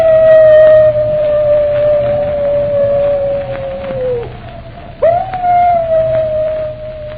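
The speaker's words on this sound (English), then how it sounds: "That howl, it's the wolf dog." A wolf dog's long, sustained howl, staged as a radio drama effect, rises and slowly falls, breaks off, then returns in a second wavering howl, clear and fairly close.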